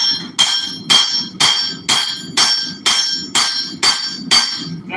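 A hammer forges a thin steel chef knife blade in a blacksmith shop, striking nine loud, evenly spaced ringing blows at about two per second, each with a bright metallic ring.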